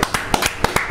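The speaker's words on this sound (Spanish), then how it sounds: "¡Un aplauso!" A few separate hand claps, about six sharp strikes in quick succession, close and fairly quiet, from a small audience on a motivational talk program.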